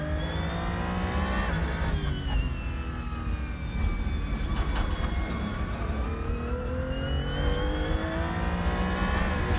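A steady racing car engine drone in Assetto Corsa on the Nordschleife, with rising and falling pitch as it shifts and accelerates, loud and continuous with no talking.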